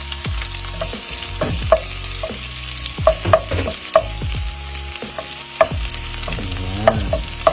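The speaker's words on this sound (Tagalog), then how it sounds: "So, mainit na ang ating olive oil. Ilagay na po natin ang ating bawang." Chopped garlic hits hot olive oil in a pan, giving a steady loud sizzle broken by sharp clinks and scrapes as a utensil stirs it.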